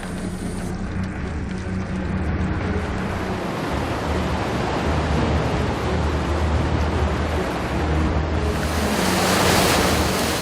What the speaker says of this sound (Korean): 거친 바람과 파도로 인해 작업이 순조로울 리가 없을 터.